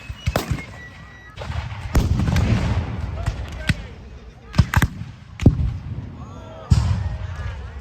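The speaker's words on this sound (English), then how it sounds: "And now they're lined up firing directly at each other." Musket volleys ring out across a Civil War reenactment battle as Union and Confederate lines fire at each other, with several sharp, loud reports separated by short gaps and crowd chatter and talk running underneath.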